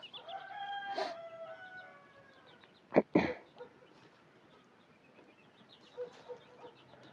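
Outdoor farmyard with a rooster crowing briefly, followed by a couple of sharp clucks and scattered softer hen sounds in the background, with ducks kept alongside the chickens.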